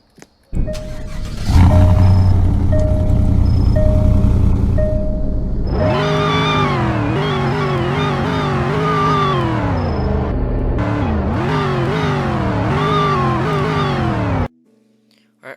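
In Roblox Greenville, a family car's engine starts with a short crank and settles into a loud idle, then revs repeatedly in rising and falling sweeps before cutting off abruptly.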